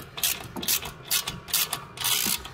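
A ratchet clicks in quick bursts while loosening slightly corroded brake caliper bolts on a car, a close series of rapid metallic pawl clatters with brief pauses between strokes and no talking.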